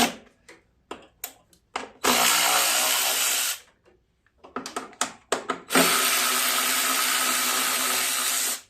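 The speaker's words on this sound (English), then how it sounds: "There's a bolt here, and a bolt here, 8 millimeter. Got to take those two off." Power tool or ratchet work removing two 8 mm bolts from the carburetor of a Poulan Pro snowblower with a 9.5 hp Briggs & Stratton engine, with scattered clicks and knocks plus two sustained, loud, close whirring bursts.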